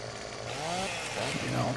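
A chainsaw trims a birch tree in the Farming Simulator 17 video game, its steady buzzing whine running loud and continuous throughout, with a voice talking over it.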